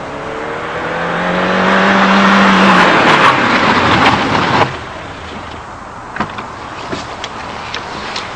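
A 1998 Peugeot 106 GTi hatchback revs up loudly close by, its engine note climbing and then cutting off, followed by lighter mechanical clunks and tyre noise as the car moves on, with no speech.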